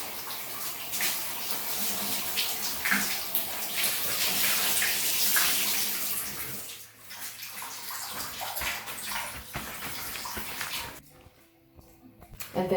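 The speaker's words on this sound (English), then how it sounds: "I'm just going to rinse these out." Running water in a bathtub as cleaning cloths are rinsed, a steady splashing rush from the tap that fades near the end into quieter drips and brief handling sounds.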